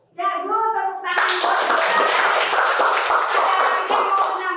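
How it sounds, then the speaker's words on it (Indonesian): A class breaks into applause after a teacher's brief spoken cue, a dense, even patter of many hands clapping that carries steadily to the end. "Tepuk tangan."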